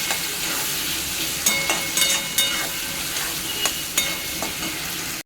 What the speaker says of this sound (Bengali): এখানে আলু আর পেঁয়াজ ভাজছি